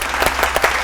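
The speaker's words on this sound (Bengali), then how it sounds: "সবাই জোরে হাততালি" Studio audience on a Bengali family game show claps loudly for a correct answer, a dense burst of applause with rhythmic clap accents filling the short moment, no talk over it.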